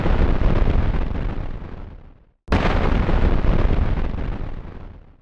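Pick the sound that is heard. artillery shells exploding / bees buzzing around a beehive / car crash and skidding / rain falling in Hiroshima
artillery shells exploding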